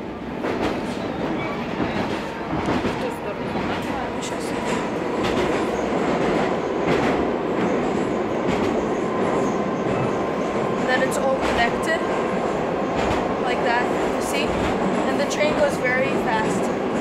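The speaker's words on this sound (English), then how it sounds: "This is inside the metro." Inside a moving Moscow metro carriage, a loud continuous rumble of rails and wheels fills the space with rhythmic clacking and occasional squeals, while voices talk faintly underneath.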